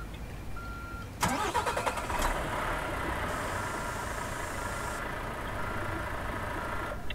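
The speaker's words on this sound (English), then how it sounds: "And I'm driving now from Kalashari to Iyashi." A car engine turning over and then running steadily while driving, with a sharp start followed by a continuous mid-pitched hum and road noise that holds at an even level.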